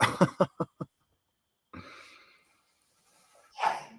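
A single sharp human sneeze bursts out near the end of a quiet conversation, after a few short clipped vocal sounds and a soft breathy rustle.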